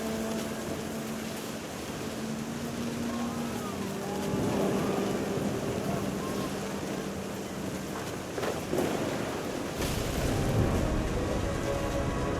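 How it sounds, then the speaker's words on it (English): Rain and rumbling thunder in the video game What Remains of Edith Finch: a steady wash of rainfall under a low, rolling thunder roar that swells midway, with a soft music tone running underneath. "The thunder sounded much too close and full of angry power."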